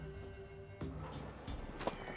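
A black horse in the Witcher 3 video game moves with soft clip-clop hoof falls over low ambient game sound, and a single louder hoof strike comes near the end.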